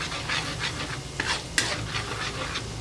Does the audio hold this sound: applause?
no